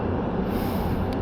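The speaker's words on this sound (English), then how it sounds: "Sorry about the traffic noise and train noise." A steady, loud rumble of passing traffic or a train, continuous and broadband with no pauses, close by.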